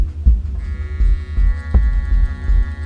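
A GWR freight model train set running slowly, its motor giving a low throbbing hum that pulses in an uneven rhythm with faint rattles, close and without talk.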